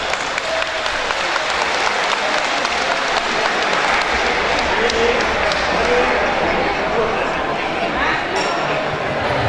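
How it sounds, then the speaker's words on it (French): Loud, sustained applause from the crowd at an evening community gathering in Aulnay greets a newly introduced president, with thick continuous clapping and some crowd noise for the whole stretch. "Je demande d'applaudir très très fort."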